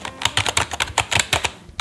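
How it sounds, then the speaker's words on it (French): Keys clacking on a black Megaport gaming computer keyboard, a quick irregular run of about a dozen sharp close taps with no talking. "Un bruit de clavier Megaport."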